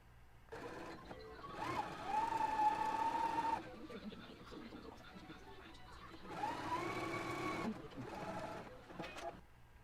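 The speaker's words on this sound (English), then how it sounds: "I'm going to go ahead and stitch them together now" A sewing machine stitches a pair of pinned sleeves together in two bursts of rapid, steady whirring, close and moderately loud, with quieter handling between them.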